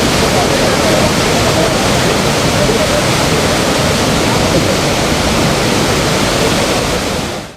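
Flood water roars out of open gates at Hyderabad's twin reservoirs, a loud, dense, unbroken rush like a waterfall, filling the whole scene before cutting off abruptly at the end.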